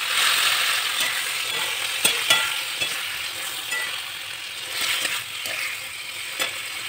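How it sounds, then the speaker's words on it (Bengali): Tomato chutney cooking in a pan, a steady bright sizzle with occasional scrapes and clicks of a spoon stirring, continuous and close with no talk. "টমেটো কাটলাম, এবার চাটনিটা চাপাবো"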